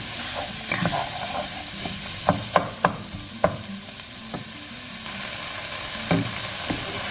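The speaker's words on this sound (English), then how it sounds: "we're just going to cook these onions until they're nice and translucent" Onions frying with bacon in a pan for smoked chicken and vegetable soup, a steady close sizzle punctuated by a run of sharp utensil clicks and scrapes, with no one speaking.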